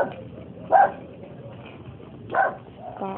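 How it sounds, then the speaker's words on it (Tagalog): Two sharp, angry dog barks about a second and a half apart, fairly close, with a softer yip near the end over quiet outdoor background. "Bahan natin ang galit na galit na aso."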